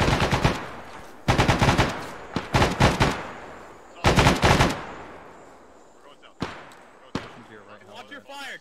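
Loud bursts of automatic gunfire from a Vietnam-era Arma mission as squads push into a village, several rapid volleys separated by short pauses, ending in a few single sharp shots.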